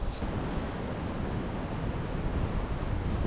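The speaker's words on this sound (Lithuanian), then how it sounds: "Kai duoda vėjo gūsis, taip ir baisu, kad medis neužgriūtų" Continuous blustery wind roars across the microphone in a forest at night, a dense rumbling rush that swells slightly toward the end.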